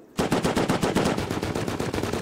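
An M249 machine gun in the video game Rust fires a loud, sustained automatic burst, with rapid evenly spaced shots running without a break after a short silent start.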